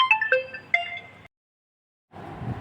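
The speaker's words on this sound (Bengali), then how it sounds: "একটা ফোন আসছিল" A phone ringtone plays a short bright melodic chime, then cuts off into silence before a soft rustling resumes.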